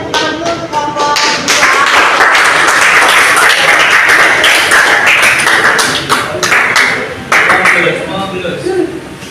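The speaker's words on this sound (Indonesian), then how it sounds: "Tepuk tangan dulu untuk kelompok" A group of listeners claps for a presenting group at a coaching session for academic supervision, steady dense applause filling the room throughout, loud and close with voices mixed in.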